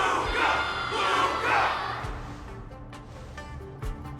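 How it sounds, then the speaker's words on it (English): A large stadium crowd roars and cheers for Luka during a faceoff match final in the Honkai Star Rail video game, loud swelling shouts in the first half that fade into scattered hits and softer background crowd noise. "Everyone's cheering for you"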